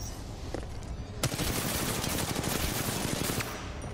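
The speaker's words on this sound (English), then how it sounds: "Who's shooting us?" Dense automatic gunfire rattles nonstop in the shooter video game Titanfall 2, loud and close, with lighter shots at first and then a sustained burst lasting several seconds.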